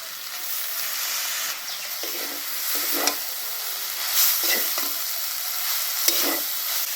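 Vegetable chowmein noodles stir-frying in a pan with chilli sauce, soy sauce and vinegar, a steady close sizzle broken by repeated scraping and tossing strokes, with no talking.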